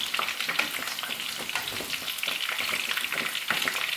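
Chicken fries in a pan for chilli chicken, a dense, bright, steady sizzle close by with light stirring crackles throughout and no voices.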